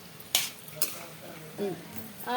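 Brinjals stuffed with masala are stirred in a pan: a few sharp utensil scrapes and clinks over a light sizzle, with a voice briefly heard.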